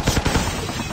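Rapid automatic gunfire in the mobile shooter game Call of Duty Mobile, a quick run of loud bursts up front settling into steady rattling fire throughout.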